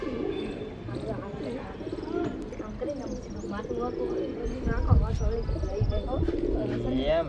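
Pigeons cooing in a steady, overlapping stream of low, throaty calls, close by and continuous, with a voice faintly mixed in.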